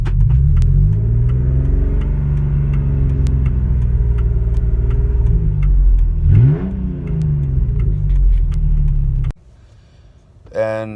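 A 1999 Ford Explorer engine held in first gear, loud close rumbling with rising revs, a sharp rev sweep near the middle, then the engine cuts off abruptly, leaving quiet with brief noise at the end.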